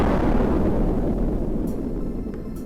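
A deep, loud rumbling blast shakes a volcano-shaped rock anthill, a sustained low roar that slowly fades, heard alone.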